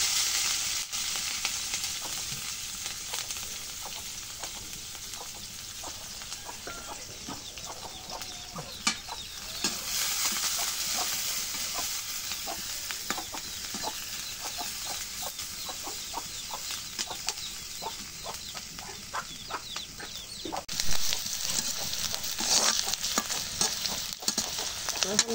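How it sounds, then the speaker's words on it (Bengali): Onion and green chili frying in hot oil, with a steady crackling sizzle that runs the whole time and occasional sharp pops and stirring scrapes close by. "এখন যে পেঁয়াজ কাঁচামরিচ তেলত ভাজে নেই"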